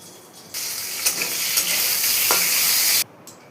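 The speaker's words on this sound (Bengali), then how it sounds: "তেলের মধ্যে আলুগুলো সামান্য ভেজে নিলাম।" Potato pieces sizzle in hot oil while cooking a Bengali magur catfish dish, a loud steady hiss that bursts in abruptly, runs for a few seconds with light stirring scrapes, then cuts off.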